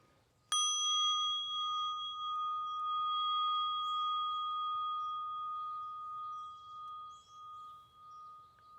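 One strike of a mindfulness bell in a native garden sounds clearly, its bright metallic tone lingering and slowly decaying over several seconds, with faint outdoor ambience and occasional distant chirps.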